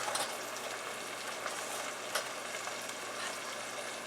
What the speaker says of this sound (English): here's the pureed tomatoes that I just added to the dish. And give that a stir